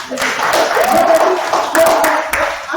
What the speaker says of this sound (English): So I really give yourself a round of applause.